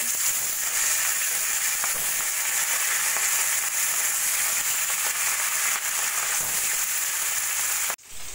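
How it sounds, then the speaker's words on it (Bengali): Steady, loud crackling sizzle of katla fish frying in hot oil, continuous and close, cutting off abruptly near the end. "এবার আমি মাছগুলো ভেজে নেব।"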